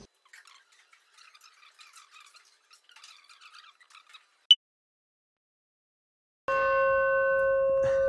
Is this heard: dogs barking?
no